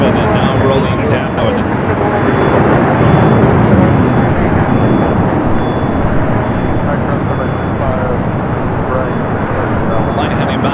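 An Air China Boeing 777 on its takeoff roll at Los Angeles airport makes a loud, continuous broadband roar that swells and holds, with a voice talking over it.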